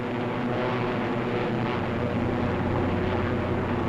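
Thunderbolt fighter planes flying in formation, heard as a loud, steady, dense engine drone with no change in level and no talking.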